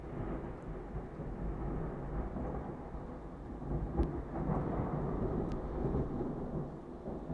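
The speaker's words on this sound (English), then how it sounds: "did you hear the thunder?" Distant thunder rolls low and continuous from outside during a rainy storm, a muffled rumble with a couple of faint sharper cracks near the middle, heard on its own without talk.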